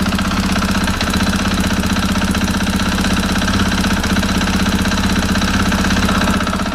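A motorcycle engine running steadily with a rhythmic metallic knocking, a fault warned of as a bad sign for the engine, loud and continuous throughout with no talk.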